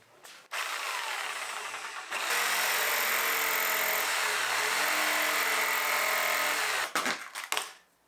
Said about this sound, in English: Curious how this is going to cut with the jigsaw